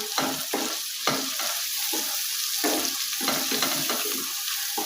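Spices with turmeric and chili powder roast in a pan for Punjabi-style kadhi pakora, with a constant sizzle and rhythmic scraping strokes of a spoon stirring them, close and alone.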